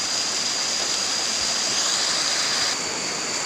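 Rushing river water flows steadily where two streams meet, a dense, constant splashing roar close by with no voices.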